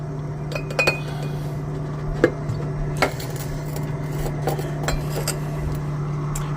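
Glass beakers clink on a bench during a chemistry gold and silver recovery from IC chips: scattered light sharp taps over a steady low hum, close and fairly quiet, with no talking.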